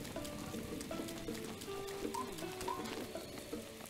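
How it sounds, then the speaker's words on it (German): Steady hiss of rain falling in The Legend of Zelda: Breath of the Wild, a continuous broadband wash with faint tonal game sounds and music layered beneath, constant and even throughout. "jetzt ist es immer nur noch normaler Regen"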